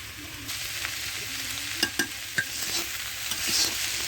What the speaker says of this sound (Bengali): ওল শালগম আর ডাঁটা আমার একসাথে ভাজি হয়ে গেছে